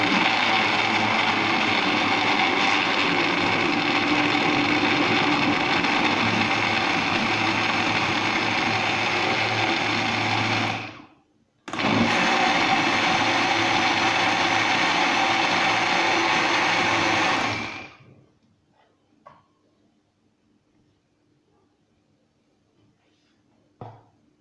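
A kitchen blender whirs loudly and steadily while mixing milk and a spoonful of ingredients for a Ramadan fruit cocktail, cutting out briefly and restarting, then stopping, leaving near silence.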